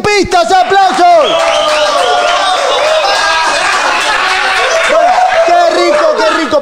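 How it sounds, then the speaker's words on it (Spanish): A live audience at a variety show erupts in loud, close cheering, with repeated rising whoops and shouts over a layer of crowd noise and scattered clapping, all at high volume from start to finish. "¡Aplausos!"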